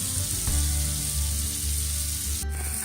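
Rice for a rice-and-anchovy dish poured into an oiled pan, a close steady sizzle over a low humming hob, with a brief stir or clatter near the end.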